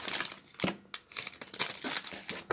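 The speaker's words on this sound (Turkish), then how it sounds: "Şunları poşete koyayım." A plastic bag crinkles and rustles up close in bursts of crackling while groceries are bagged in a supermarket, with brief pauses between handlings.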